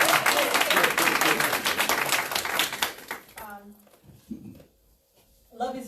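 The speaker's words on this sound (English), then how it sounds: "I want you to give him a round of applause." Audience applause at a campaign event fills the first half as a loud, dense patter of many hands, then thins out and fades into near quiet, with scattered voices and a brief spoken bit toward the end.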